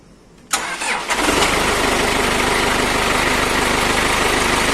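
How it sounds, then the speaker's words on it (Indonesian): A Toyota FD25 forklift engine cranks briefly, catches, and settles into a loud, steady mechanical idle close by. "Mari kita nyalakan kembali mesin forklift ini."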